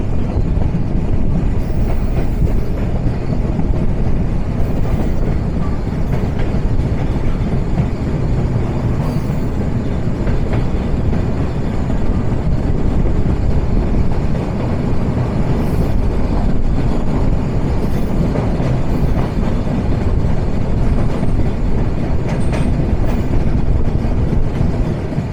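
The Padma Express runs through Tongi railway junction with a sustained, loud rumble and clatter of wheels and carriages, heard close from on board for a long stretch.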